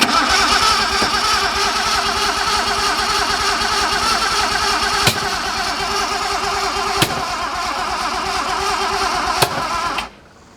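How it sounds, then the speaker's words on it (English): A junkyard Datsun 240Z engine, running with ignition timing off, cranks and catches into a loud, rough, sustained roar, punctuated by a few sharp backfire-like pops before cutting off abruptly. "We'll try and start it again, see what happens."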